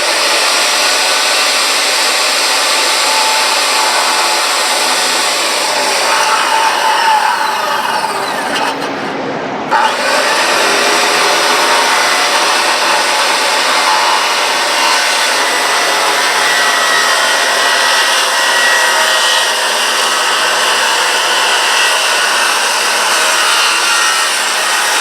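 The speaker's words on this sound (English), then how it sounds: "I'm gonna put the edge of that right on here and hold it with my finger and start ripping." A Makita 5007F circular saw rips steadily through wood with the blade tilted to 30 degrees, a loud continuous whine that holds nearly unbroken, with a brief dip in the middle before cutting resumes.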